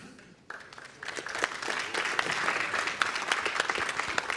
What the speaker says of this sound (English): And another round of applause for Vilde.